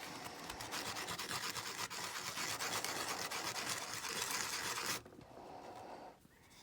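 Balsa wood burr sanded by hand, a steady dense rasping rub that runs continuously for about five seconds, then drops off to a quieter scratchy texture and nearly stops near the end; close and alone, with no talking.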